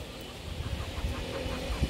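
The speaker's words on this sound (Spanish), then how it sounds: "Estamos aquí en el hembrero, observando las gallinas." Hens in a hen house cluck softly, a low, brief murmur of birds heard from close by.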